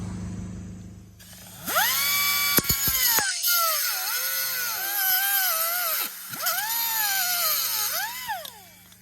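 A power cutter grinds into a side bag being fitted to a 1993 Honda Shadow 600. A loud, close, high whine runs throughout, sagging and recovering in pitch as the blade bogs down in the cut.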